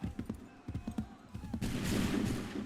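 A musket volley erupts in Assassin's Creed III, following a few sharp shots and then a dense burst of overlapping gunfire that rolls on loudly.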